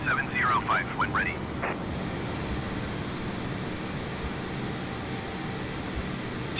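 An airliner taxis toward a runway in Microsoft Flight Simulator 2020, a video game. A steady, fairly loud engine drone holds throughout, with a brief voice-like burst near the start.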